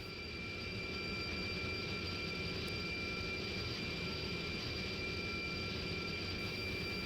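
A steady, loud engine drone from a military jet cruising at altitude in the Strike Fighters 2 flight simulator, continuous and unchanging with no talk over it.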